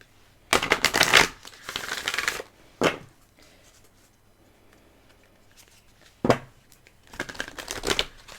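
Oracle cards are shuffled in a few brisk bursts of riffling and flapping, with a long run near the start, a short snap, then quieter pauses before two more shuffles near the end; nobody speaks.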